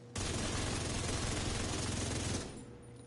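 Rapid, dense automatic gunfire from a weapon in The Division 2 video game, a loud continuous burst of about two and a half seconds that ends abruptly and leaves a fading tail.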